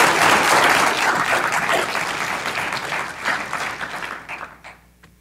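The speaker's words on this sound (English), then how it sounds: "And a round of applause." An audience claps at a medical student research symposium, with dense applause loud at first that thins and fades out over about five seconds.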